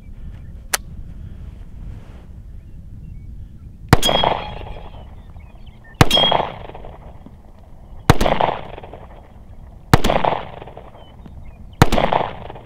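P08 Luger pistol firing its last few rounds outdoors, one sharp loud crack about every two seconds, five shots after a faint earlier pop, each followed by a short echoing decay.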